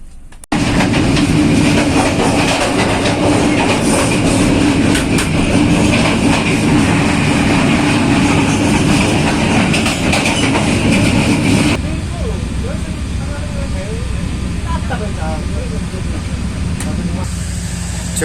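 The Logawa passenger train rolls along the rails in Indonesia, a loud continuous rumble and rattle heard from inside the carriage that drops to a quieter steady roll partway through, with talk over it.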